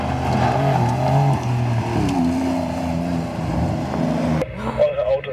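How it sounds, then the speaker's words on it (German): A Porsche 911 Dakar accelerates hard at full throttle offroad in a quarry, its engine roaring and rising in pitch, with a person talking over the noise before an abrupt cut. "ran ans Gas und dann kräftig beschleunigen"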